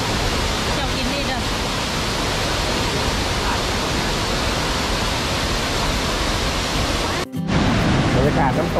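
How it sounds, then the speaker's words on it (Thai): A waterfall at Chet Khot–Pong Kon Sao roars steadily and close by, a dense, unbroken rush of falling water with a brief dip near the end before the roar resumes. "บรรยากาศน้ำตกครับ"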